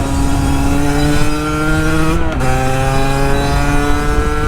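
A Sherco 50 motorcycle engine held at high revs, a loud, close, buzzing two-stroke whine that holds steady, dips briefly in pitch midway, then climbs back up with no talk over it.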